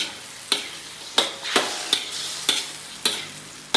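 Chicken with cabbage, celery and carrots stirred in a sizzling pan, a regular series of six spatula scrapes about every half second over a constant frying hiss, close up, no talking.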